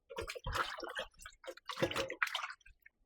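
Chicken pieces being rinsed by hand in water for Jamaican red peas soup, with irregular splashes, drips and wet squishing in short bursts, close and fairly quiet, no talking.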